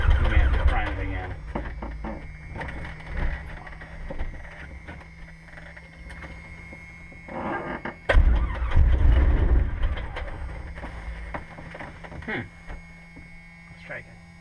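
A Cessna 150 engine start attempt in the cockpit, with a starter grinding in two bursts and a brief low rumble under continuous nearby talk and radio hum.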